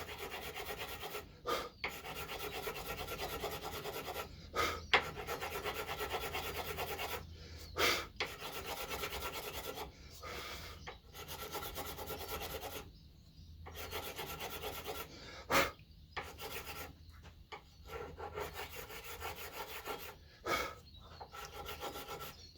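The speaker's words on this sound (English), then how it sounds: "it's just a case of just getting a file and filing them down" A metal file rasps back and forth over the fret ends on a guitar neck in close, rhythmic strokes with brief pauses between passes, and no talking.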